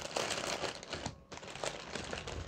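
A large sealed duty-free plastic bag is unpacked, giving close, loud crinkling and rustling of plastic in repeated bursts with a brief quiet gap midway.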